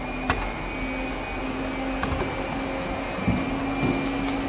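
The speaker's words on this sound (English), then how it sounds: "So now the pump is back on." A fire pump run by a Tornatech controller hums steadily at close range, a low continuous mechanical drone with a faint tonal whine and a few soft clicks, no talking.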